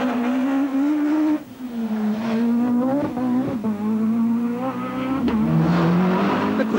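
A Renault Mégane Maxi asphalt rally car racing in the 1997 British Rally Championship, its engine droning loud and steady with shifting pitch, brief gear-change dips and a tyre squeal or two as it drives past.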